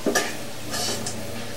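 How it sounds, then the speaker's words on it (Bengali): Deep-fried onions (beresta) are lifted out of hot oil with a spoon, giving a soft, continuous sizzle with a few light scraping and stirring strokes up close, with no voices. "করে আমি এটাকে তেল থেকে সরাই নেব।"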